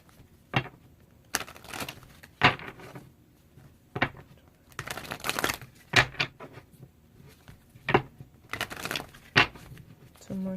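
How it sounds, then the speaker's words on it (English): Tarot cards being shuffled by hand, a series of short, crisp riffling bursts separated by pauses, fairly close and quiet with no talk during them. "Two more shuffles."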